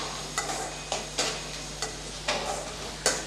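Crushed garlic and onion sautéing in a pan, a low continuous sizzle broken by about six evenly spaced scrapes of a spatula, close and clear with no voices.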